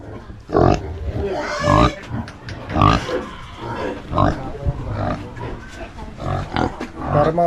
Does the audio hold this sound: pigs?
yes